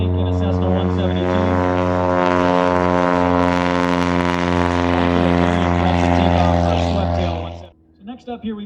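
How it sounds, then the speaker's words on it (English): A Cessna 172 light airplane at a STOL competition in Valdez, Alaska, taking off: a loud, steady propeller engine drone at full power holds for about seven seconds, then cuts off abruptly, with a few brief sounds trailing after. "That's going to be the shortest takeoff."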